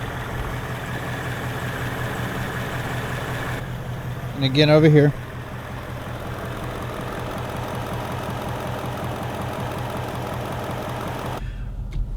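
A 2019 Ford Mustang GT V8 idles steadily with a faint rhythmic engine tick, while someone talks over it.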